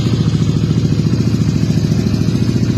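A kick-started Rusi Flash 150 fuel-injected motorcycle engine idles close by with a steady, loud, rapid chugging throb that holds constant throughout.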